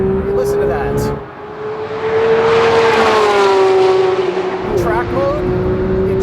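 Porsche 911 GT3 RS flat-six revving hard in track mode, a loud, sustained high-pitched engine wail climbing and holding through the clip with brief gear-change dips, heard from inside the car.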